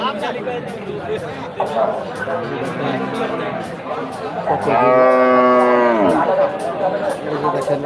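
At a busy Bangladeshi cattle market, a single long, loud moo rises clearly over the constant chatter of a crowd, with people talking throughout.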